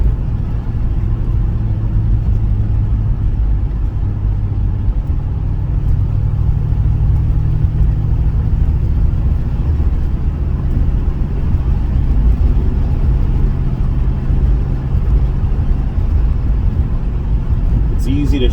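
A 1978 Pontiac Trans Am WS6 with a 400 engine and four-speed manual, driving with a steady, loud low engine rumble and road drone that rises slightly midway, heard from inside the car.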